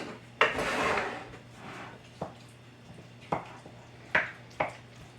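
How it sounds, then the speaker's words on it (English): Egg salad with roasted red peppers gets stirred in a bowl: a spoon scrapes, then sharp clinks and knocks against the bowl come at scattered intervals, close and fairly quiet, with no talking. "And give these a little stir up."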